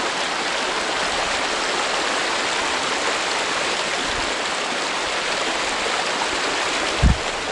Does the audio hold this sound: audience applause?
no